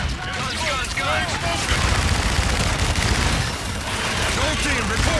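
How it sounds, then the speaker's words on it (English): During a Call of Duty: Infinite Warfare battle, an aircraft gun run rips out dense, sustained strafing fire, loud and continuous, with radio chatter and shouting voices mixed in over the barrage. "Roger, inbound for gun run."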